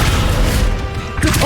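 A Descendo spell slams a target to the ground in Hogwarts Legacy, a loud booming crash with heavy low rumble that dips briefly before a second hit, game sounds busy around it.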